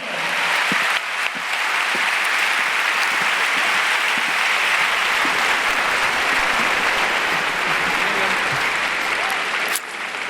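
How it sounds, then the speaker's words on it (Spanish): Steady, dense applause from a large audience at a Spanish-language panel event on mental health, welcoming the moderator; the clapping fills the whole stretch at an even, loud level with no talking over it. "recibamos con un gran aplauso al doctor Javier Helguea"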